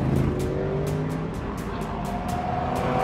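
LMGT3 race cars roar past during qualifying for the Bahrain 8 Hours, a steady loud engine drone with a rising pitch as they pass, and repeated sharp bursts layered over it.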